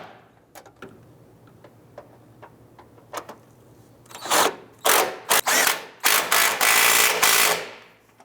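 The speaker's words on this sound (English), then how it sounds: "Let's go ahead and tighten down this bolt here." A ratchet tightens an engine mount bolt on a 2001-2007 Ford Escape, starting with scattered single clicks and then breaking into loud, rapid bursts of ratcheting close by.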